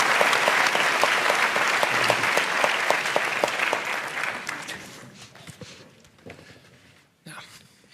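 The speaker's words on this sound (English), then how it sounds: "a big round of applause for our panel" An audience gives a panel a round of applause: strong, many-handed clapping runs for several seconds, then thins and trails off, and a voice speaks near the end.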